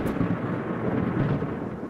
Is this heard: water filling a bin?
no